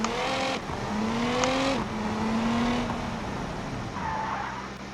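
Simulated car engine in BeamNG.drive revving up and pulling away after being put in gear, a steady rising drone with gear-change dips and tire squeal, loud and continuous throughout.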